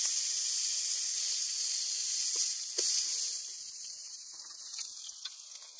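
Hamburger patties cooking on a grill beside the Granby River, a steady bright sizzle and hiss with small pops and crackles, easing slightly toward the end.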